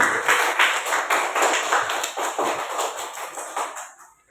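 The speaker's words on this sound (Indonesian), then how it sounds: "Tepuk tangan untuk Radit dulu" Students in a classroom clap for a classmate during a lesson on halal and haram, a steady wash of many hands close by, fading out at the end.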